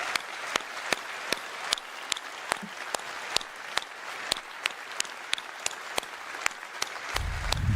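A large CitizenCon audience gives sustained, even applause, a dense wash of clapping with a few sharper individual claps popping out at regular intervals, and it continues without a break throughout.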